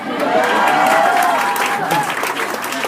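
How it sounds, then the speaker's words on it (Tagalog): Applause from a crowd of friends at an awards gathering, steady and fairly loud for the whole stretch, with murmured voices and cheering mixed in. "Lahat ng pumalakpak, kaibigan ko yan."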